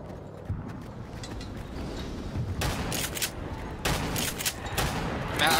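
Machine gun fire in a Call of Duty custom zombies game: bursts of rapid gunfire crackle in over a steady background noise, the loudest clusters coming in short volleys spaced a second or so apart.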